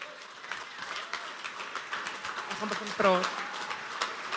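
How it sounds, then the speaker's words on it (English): Applause greets a speaker taking the stage at a business event, a soft wash of many hands clapping at a distance, with voices and a brief cheer partway through. "Please give Lizna a round of applause."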